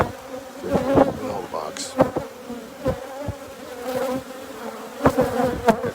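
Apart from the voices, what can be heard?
honey bees buzzing around hives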